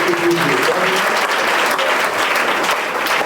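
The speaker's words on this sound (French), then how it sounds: "Donnez une forte acclamation" A church congregation claps loudly in acclamation of God, a thick, sustained wall of applause from a crowded room, with faint voices mixed underneath.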